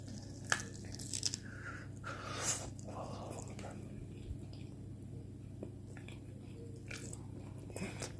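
Freshly air-fried food is bitten and chewed in a few quiet, crisp crunches spread out over a soft, steady background hum, close but faint.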